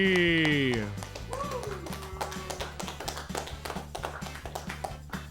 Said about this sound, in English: That clapping just ended so quickly.